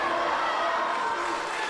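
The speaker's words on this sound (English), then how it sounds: "Let's go Lander, let's go Outlaw, split back and forth between the crowd." A wrestling event crowd fills an arena with a dense, continuous roar of chanting, split between fans of Lander and Outlaw, loud and sustained throughout without clear gaps.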